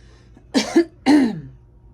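Two or three harsh coughs sound close and loud, a quick pair followed by a longer, rougher one, with nothing else audible around them.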